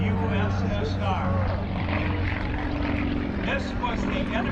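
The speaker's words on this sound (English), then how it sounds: "he is flying the Soviet-manufactured Sukhoi, built by the Sukhoi Design Bureau, Moscow, formerly USSR" A Soviet-made Sukhoi Su-31 propeller aerobatic plane performing at an airshow, its engine drone steady and fairly loud with pitch shifts as it manoeuvres, while a commentator talks over it.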